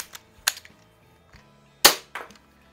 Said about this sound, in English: BBs are coming out.